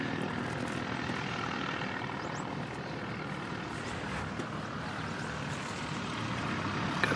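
An ATR turboprop airliner returns from a test flight at Christchurch Airport in wet conditions, with a continuous broad propeller and engine roar heard from a distance.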